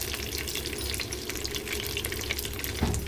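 Mustard seeds, cumin and curry leaves tempering in hot oil for a drumstick sambar give a steady, close, dense sizzle and crackle that runs throughout, with a brief louder spatter near the end and no talking.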